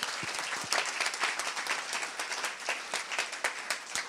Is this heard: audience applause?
yes